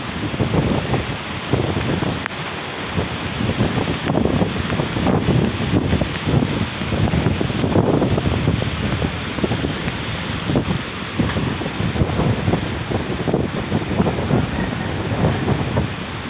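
Strong wind roars steadily across an open outdoor spot in Balingasag, Misamis Oriental, after heavy rain, a loud continuous buffeting rush with gusty surges and mic-blasting noise throughout.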